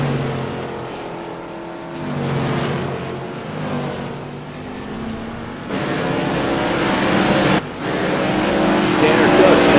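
Tour modified race cars roar around Thompson Speedway in a steady, droning engine wash that swells and shifts as cars pass. A commentator talks over the racing throughout.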